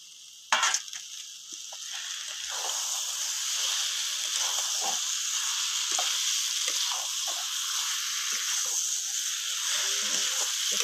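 Pointed gourd, potato and prawns frying in a hot pan, a loud, continuous close-up sizzle and hiss with intermittent scraping stir strokes, following a sharp clatter at the start, no talk.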